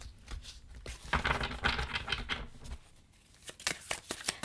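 Tarot cards shuffled by hand, a burst of papery riffling and soft slaps up close, a brief pause, then a few sharper card taps and flicks.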